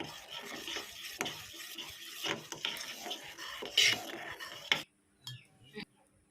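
A milk-based sweet mixture with sugar powder and crushed cardamom is stirred with a spoon in a pot, giving repeated close scraping and light clinks against the pan, then a brief near-silent pause with a few soft taps.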